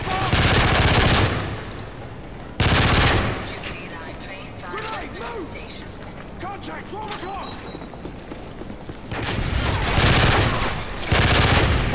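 Sustained bursts of automatic gunfire from a Call of Duty: Modern Warfare 3 PC campaign mission, loud blocks at the start, around three seconds and near the end, with quieter mechanical clicks and a voice talking in between.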